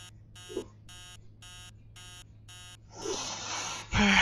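An in-game alarm in the horror game Emily Wants to Play Too beeps in a steady repeating pattern of short bursts, joined near the end by louder noise and a gasp-like breath.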